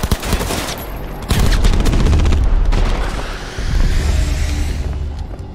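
Heavy gunfire in Cyberpunk 2077, loud overlapping bursts and sustained volleys of shots with booming impacts, rising again after a short dip.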